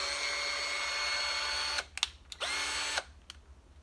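Hyper Tough 20 volt single-speed cordless drill runs with a steady high whine for nearly two seconds, then gives two shorter bursts as the trigger is released and pulled again, close and fairly quiet.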